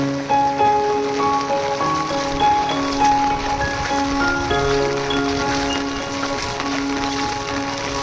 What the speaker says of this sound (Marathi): रस्त्यावर पाणी आलं म्हणजे पाऊस बऱ्यापैकी पडतो आहे गावाला सुद्धा.